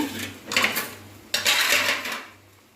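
Cooked noodles, made without spices, are tipped from a pan onto a plate in two short clattering scrapes of metal on dish, close and fairly loud.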